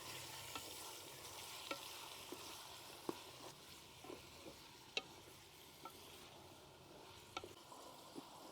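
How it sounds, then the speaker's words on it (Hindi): Boneless chicken pieces fry in a pan until their colour changes, giving a faint, steady sizzle broken by sparse, light clicks of stirring. "अब इसको हमने जो है ना वो इतना फ्राई करना है कि इसका कलर चेंज हो जाए।"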